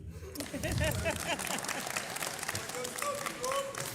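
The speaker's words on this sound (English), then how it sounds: "Y'all can clap again." Audience clapping at a state championship ring ceremony for the Beaumont United team, a steady moderate wash of applause with a few voices and cheers mixed in, filling the room.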